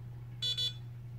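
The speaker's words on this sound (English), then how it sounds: "It should beep." A Vortex 250 Pro flight controller emits two short electronic beeps close by during firmware flashing, over a steady low hum.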